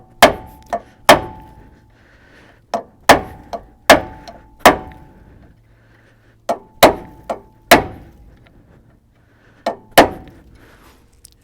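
A hammer strikes the steering knuckle of a 1992–2000 GM 4WD K truck during ball joint replacement. About fifteen loud, sharp metallic blows land close by in uneven clusters, each ringing briefly, with pauses between groups.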